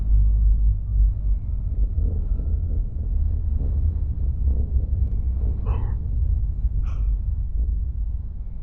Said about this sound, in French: Mais il y a du vent de ouf ou quoi?